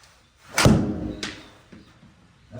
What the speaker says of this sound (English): Let's just try hitting it off the turf and see how that feels.